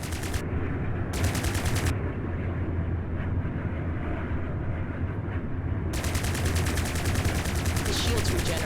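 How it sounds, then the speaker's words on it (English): Plasma cannon fire in the space combat game Strike Suit Zero, bursts of rapid crackling shots over a constant roaring engine rumble, with a voice speaking over the action. "Don't forget, plasma cannons drain weapons energy. Don't spam your shots."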